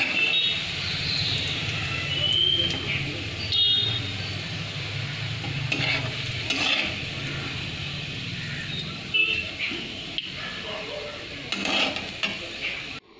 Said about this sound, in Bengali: আমার পেঁয়াজ ভাজা হয়ে গিয়েছে।